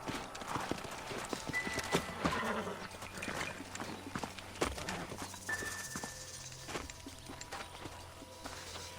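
Horse hooves clip-clop at a walking pace in Red Dead Redemption on PS4, with a brief whinny and other outdoor game sounds mixed in.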